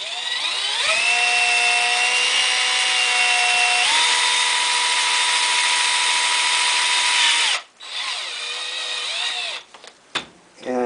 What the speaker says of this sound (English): we'll drill a little hole right here on the other side.